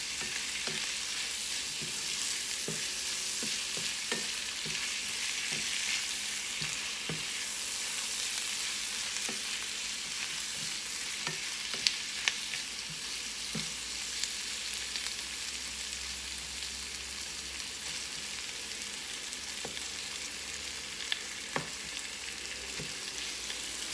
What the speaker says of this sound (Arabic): غادي نبقى نشحر في هاد الفلفله حتى توجد حتى هي تطيح